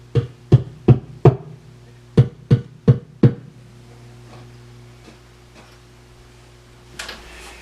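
A mandolin fitted with a pickup sounds through a small amplifier as a row of sharp taps on the body: a quick run of four, a pause, then four more, followed by a steady amp hum and a faint rustle.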